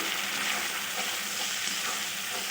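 Mustard paste thinned with water added to spices frying in a pan for a Bengali barbati (yardlong bean) curry, giving a steady, close, loud sizzle with faint stirring and no speech.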